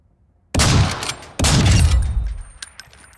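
Two heavy, booming shotgun blasts in Call of Duty Warzone 2, close and loud, about a second apart, each with a rolling decay, followed by faint scattered clicks.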